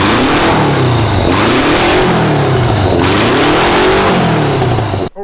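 A four-turbo Mazda engine revs hard and steadily, pitch rising and falling in repeated swells with a whooshing turbo spool over the top, loud and close throughout before cutting off at the end.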